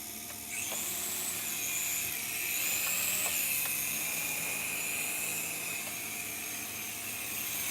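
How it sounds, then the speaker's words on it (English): A Shark toy remote-control helicopter flies nearby with a steady high-pitched motor whine and buzzing rotor. It starts after a brief pause, holds fairly steady and rises and falls slightly in pitch, with no talking. "The Shark is a sweet helicopter."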